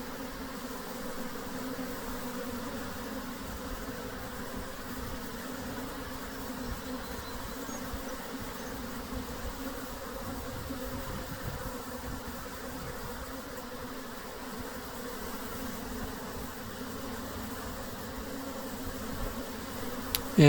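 A honey bee swarm with two queens is collected by the bucket method, a steady, dense drone of many buzzing bees close by, continuous and unbroken, with no talk.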